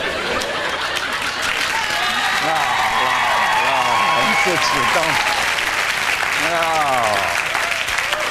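Studio audience applauding steadily at a talk show taping, a dense sustained wash of clapping throughout, with someone speaking over it.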